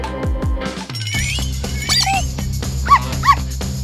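A dog in a cinema gives short yips and whimpering barks amid music and background sound, with two brief higher-pitched yelps near the end.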